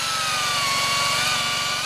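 A power drill bores into a black rhino horn, a steady, loud whir with a rapid rhythmic chatter underneath, running continuously without any voices.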